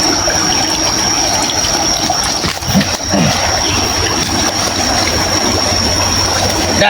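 River water flows in a steady, continuous rush of broadband churning, loud and close, with a brief dip in intensity partway through and no voices.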